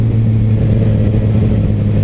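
Ducati Streetfighter V4S motorcycle engine running steadily, a loud close low rumbling drone with a constant pitch throughout and no voices.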